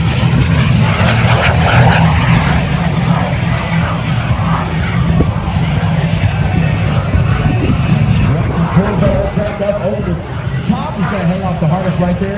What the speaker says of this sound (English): Tom repositions the mini jet, gets back in real quick.